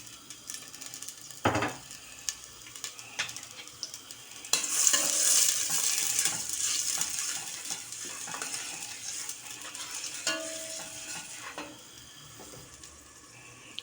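Onions sizzle and fry in hot vegetable oil in a pot over high heat, a crackling hiss that swells after a few seconds, with occasional scraping stirs of a utensil against the pan.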